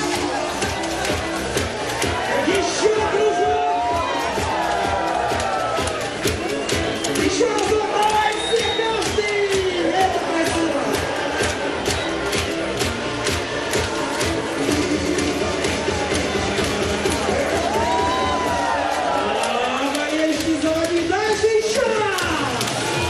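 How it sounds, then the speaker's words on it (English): Crowd at the Vodny Stadium during a men's beach volleyball Grand Slam final in Moscow, a steady roar of cheering and whooping that runs through the whole stretch, loud and dense, with voices and commentary mixed in. "the crowd getting into the spirit here at the Vodny Stadium"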